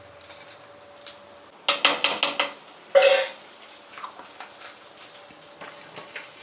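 Onions frying in a pan as ginger paste goes in, with a burst of metal clinks and scraping stirring near the middle, light pan and utensil knocks around it, and a faint sizzle underneath, no voices.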